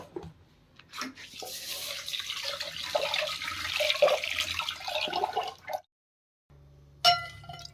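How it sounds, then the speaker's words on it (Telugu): Rice is rinsed in water at a home kitchen sink, with running water, splashing and light clinks of a vessel, a brief pause, then a short burst of water again. "బియ్యం అయితే కడిగేసి నానబెట్టుకుంటానండి."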